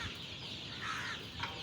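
Super Sonali chickens at a poultry farm cluck faintly against a dense steady murmur of the flock, with one or two slightly louder calls standing out from the wash.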